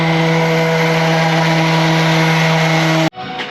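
A DA sander with 600 grit paper buffs a truck hood, a loud, steady high-pitched whine with a strong tonal hum that holds for three seconds before cutting off abruptly into quieter background noise.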